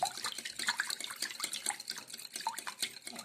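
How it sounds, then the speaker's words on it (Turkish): Egg-yolk sauce is poured over a potato börek made with ready-made yufka, giving close, wet splattering and dripping with irregular liquid patters and splashes and no talk. "Kalan sosumu böreğimin üzerine her yerine gelecek şekilde döküyorum."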